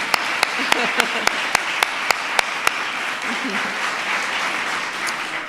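An audience at the White House applauds military kids during a holiday decorations preview, a short round of clapping with a few sharp individual claps standing out near the front and voices mixed in.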